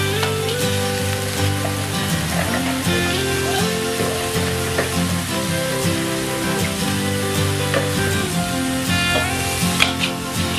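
Bean sprouts stir-fried in a pan with egg, sizzling and crackling steadily throughout, with scraping and stirring sounds over the continuous hiss.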